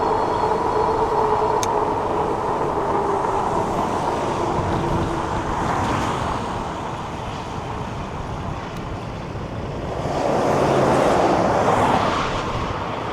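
A Haoqi Cheetah 2025 ebike runs at full throttle, its motor whine and rolling tyre roar steady and close, with wind rush swelling near the end; no one talks.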